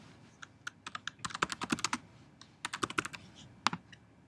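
Fingers typing on a computer keyboard, a quick uneven run of light close key clicks in two bursts with a short pause between, no voices.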